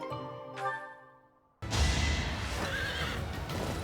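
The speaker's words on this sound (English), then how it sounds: "As we watch Yuri stay on his horse for once" A horse whinnies with a high, wavering call in the video game Fire Emblem: Three Houses, then a sudden burst of loud rushing noise takes over and continues steadily.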